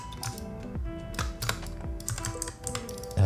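Typing on a computer keyboard, a close, rapid stream of irregular key clicks and taps with a louder thump at the very end.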